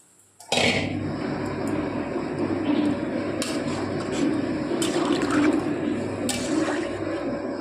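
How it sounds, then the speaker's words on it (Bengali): Water poured into a spiced Bengali curry of sholakochu in a pan, a sudden loud rush of liquid after a quiet start that settles into steady bubbling hiss, close and without speech. "এবার আমি এর মধ্যে দিয়ে দেবো জল।"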